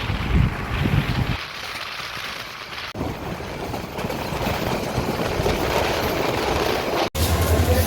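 The Egarosindhur Provati train pulls into platform one at Kamalapur railway station in Dhaka, a steady broad rumble of wheels and carriages with wind buffeting the microphone and a brief dropout near the end.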